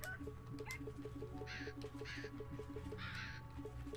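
Crow cawing in the video game A Hat in Time, three raspy calls spaced over a steady game soundtrack with a repeating plucked pattern and low hum beneath.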